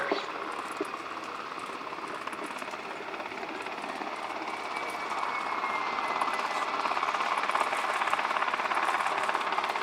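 A USAF U-2 spy plane flies a display at an air show, its jet engine a broad, steady roar that swells slightly louder toward the end, heard at a distance with no speech.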